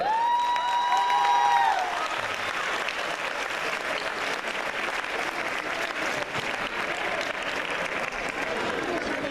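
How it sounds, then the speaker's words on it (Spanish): An audience applauds at the Pilar Baila 2017 open dance event, a broad wash of clapping and crowd noise that follows a held musical tone and continues steadily. "¿Nos escuchó el aplauso?"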